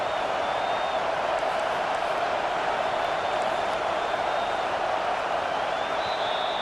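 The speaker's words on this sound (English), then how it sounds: "Here comes this home crowd as the defense tries to get off the field on third down." Home crowd roaring in EA College Football 25 as the defense tries to get off the field on third down against Ohio State, a steady dense wall of cheering and noise that holds throughout without break.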